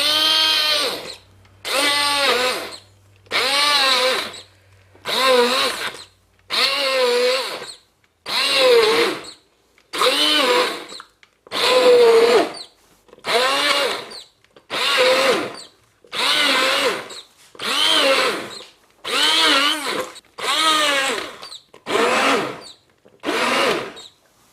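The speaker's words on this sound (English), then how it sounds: "If you put the blender into the mixture, it's less likely to splash." A hand blender purees hot vegetable soup in loud, regular bursts, about fifteen evenly spaced whirring pulses with short silences between, close and without talk.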